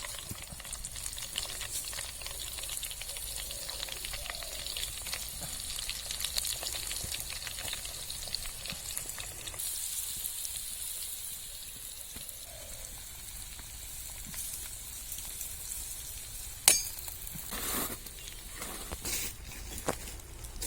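Fish seasoned with turmeric fries in a pan outdoors in a dense forest, giving a soft, steady crackling sizzle throughout, with a few sharper clicks and pops.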